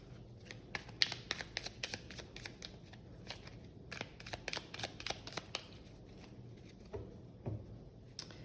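A deck of oracle cards is shuffled in quick bursts of crisp riffling and flicking, close and fairly soft, with short pauses between rounds and no voices.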